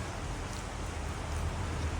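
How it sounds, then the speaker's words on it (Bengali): Rain falls steadily, making a dense, even hiss with a low rumble for a couple of seconds, with no other sounds standing out. "বৃষ্টি শুরু হয়ে গেল আওয়াজ শুরু হচ্ছে কি বৃষ্টি পড়ছে"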